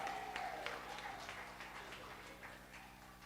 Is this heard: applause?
yes